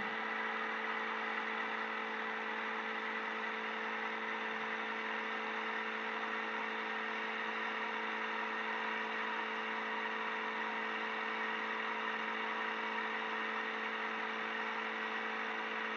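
Simulated engine of a P2002 light aircraft in a flight simulator drones steadily and evenly throughout, a constant close-up hum with no pauses or talk.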